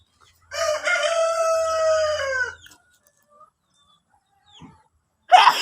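Newly hatched baby chicks from an incubator on a backyard chicken farm chirp in a clear, high burst for about two seconds, followed by quiet and a short, faint final call.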